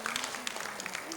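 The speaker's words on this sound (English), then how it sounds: "A round of applause to them." Applause for a quiz team at a school quiz event, a short burst of scattered hand clapping from a modest audience, close and moderately loud.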